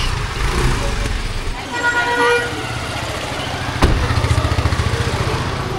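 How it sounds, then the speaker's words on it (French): Kathmandu street traffic with a short car horn toot and a motorcycle engine putting steadily nearby, close and busy, with a voice underneath. "Ce qui est plus soft ici aussi, c'est l'utilisation du klaxon."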